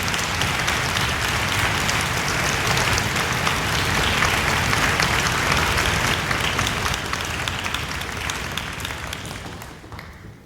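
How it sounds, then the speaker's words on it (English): An audience gives sustained, dense applause for honor orchestra students standing at a school orchestra concert, loud and even for several seconds before fading toward the end. "If you give them a round of applause."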